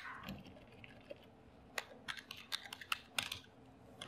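Typing on a computer keyboard while logging in to a local WordPress site, a faint run of quick, irregular key clicks spread across the clip with no talk.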